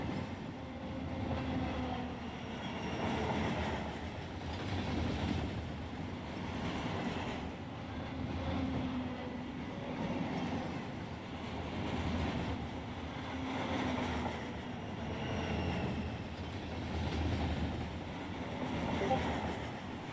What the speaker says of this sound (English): Now you guys can hear the train go by.